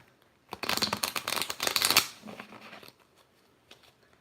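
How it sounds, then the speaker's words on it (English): Tarot cards shuffled in quick riffling bursts, loud and close for about a second and a half, then softer scattered card rustles and taps fading out. "The cards are definitely shuffling different than I normally shuffle."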